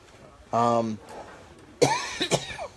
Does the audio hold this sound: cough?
yes